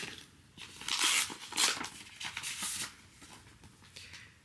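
A paper envelope is torn open and a card pulled out, giving close, crisp bursts of ripping and crinkling paper in several short bouts, with no talking.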